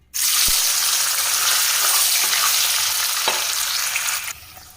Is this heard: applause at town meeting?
no